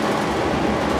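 A train rolls past near Millennium Park in Chicago, a loud, steady rumble of rail cars that fills the short stretch without a break and with no voices over it.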